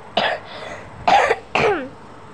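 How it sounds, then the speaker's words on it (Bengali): Three sharp coughs from one person, close and fairly loud, spaced about half a second to a second apart with quiet between. "আমার একটু কাশি আছে।"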